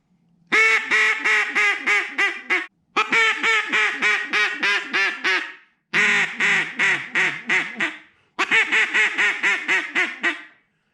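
Four loud bursts of a duck call blown as a comeback call, each a rapid run of about seven harsh quacks, separated by short pauses, close and clear with no talking.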